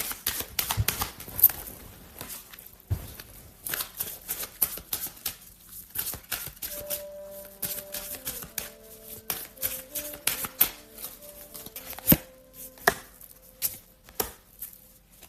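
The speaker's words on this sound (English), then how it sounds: "I'm going to go ahead and draw some clarifying love cards" Tarot love cards being shuffled and drawn, a dense run of quick papery riffles, snaps and taps up close, with soft background music tones in the middle and no talk.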